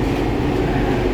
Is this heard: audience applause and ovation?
no